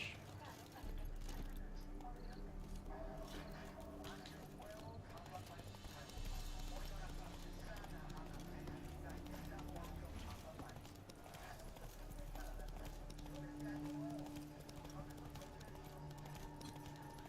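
Hooves of the horse Roach in The Witcher 3 clip-clop steadily through the whole stretch at a gallop, close and fairly loud, with a game soundtrack underneath and someone talking over the top.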